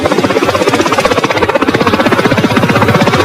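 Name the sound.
helicopter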